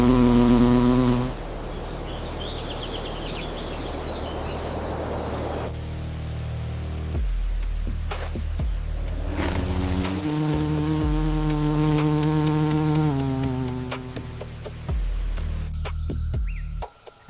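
A giant Himalayan bee buzzes close by in sustained, humming bursts that shift in pitch, with brief pauses between them over a quiet background.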